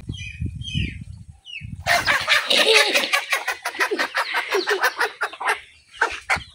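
A native desi chicken clucks in quick repeated bursts at home, close and fairly loud, after a short stretch of low rumbling noise at the start.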